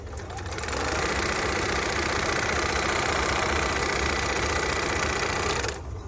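A Juki F-600 industrial sewing machine runs a straight stitch in one steady, loud, continuous whir lasting several seconds, then it stops abruptly.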